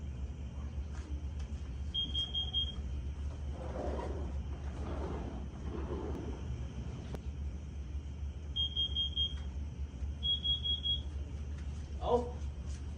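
A First Alert CO5120BN carbon monoxide alarm gives short, thin, high electronic beeps in a few spaced bursts over a steady low room hum, with a person talking quietly in between.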